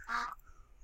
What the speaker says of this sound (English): there's a little duck sound being played